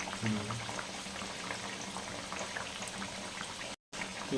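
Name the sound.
cabbage fritters deep frying in oil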